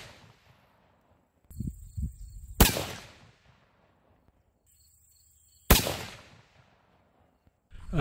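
Two sharp, loud .30-06 rifle shots with Terminal Ascent bullets, several seconds apart, each a sudden crack followed by a fading echo, with quieter clicks and handling noise between them and a third blast starting at the very end.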